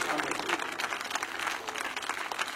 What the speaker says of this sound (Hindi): उपर करके ताली बजाइए